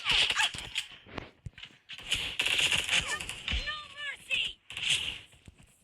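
Gunfire rattles in a shooting video game, sharp bursts of rapid shots in quick clusters with short gaps between them, mixed with occasional game effects and a player talking.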